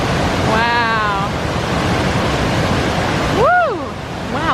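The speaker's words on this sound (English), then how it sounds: "I'm going to zoom in so you can see how powerful the water is coming down" A powerful mountain waterfall near Asheville roars as a steady, loud broadband rush of falling water, with a brief whistle-like tone partway through and another near the end.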